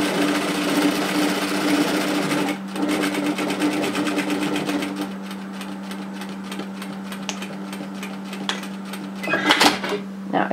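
Sewing machine stitching a dress split down to the hemline, a continuous close buzzing run of rapid needle strokes with a brief pause for pivoting and a few clacks near the end.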